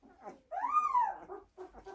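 A bird dog puppy whimpers up close in one drawn-out, rising and falling whine, bracketed by softer short whimpers and snuffles before and after.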